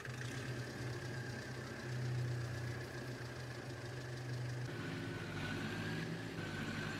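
A tractor engine idles steadily in Farming Simulator 22, a continuous low mechanical rumble with a humming drone that holds level, its pitch shifting slightly partway through, with no talking over it.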